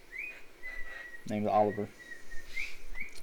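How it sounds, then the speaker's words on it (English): A pet cockatiel named Oliver whistles in the background, with repeated short high whistled notes sounding clearly throughout. A voice talks over them in the middle. "the whistling you hear in the background is our cockatiel"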